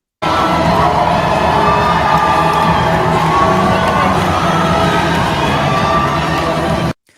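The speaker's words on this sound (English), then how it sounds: "You hear cheering." A crowd cheers and shouts continuously at a women's swimming race, a dense, loud wall of voices with high-pitched whoops, steady from start to finish.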